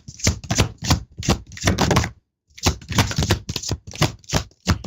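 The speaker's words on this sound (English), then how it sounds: "I'm just shuffling the cards." A deck of cards being shuffled in a series of rapid riffling bursts, close and crisp, with a short pause midway before the shuffling resumes.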